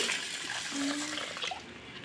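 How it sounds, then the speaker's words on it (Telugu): Urad dal being rinsed with water in a bowl, a soft steady slosh and trickle of liquid that runs close by and alone, with no talk over it. "ఇంకొక బౌల్ తీసుకొని ఇందులో మినప్పప్పు వేసుకొని ఒక్కొక్కసారి కడిగేసుకొని"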